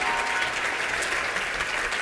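Audience applause fills a conference plenary session at the 2014 Rail-volution event, a dense, steady wash of many hands clapping at an even level with no talk.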